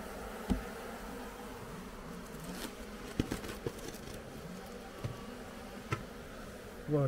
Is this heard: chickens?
no